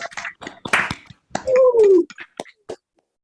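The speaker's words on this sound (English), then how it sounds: "can we just come off mute and just give a round of applause for the Neahtawanta Center" Participants on an online video call unmute to applaud the Neahtawanta Center at an environmental awards celebration, producing sparse, uneven claps and taps from separate microphones, with a brief vocal whoop in the middle.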